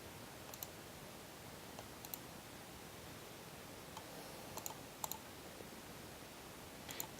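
Typing on a computer keyboard sounds as sparse, faint keystroke clicks spaced a second or two apart over a quiet room hiss.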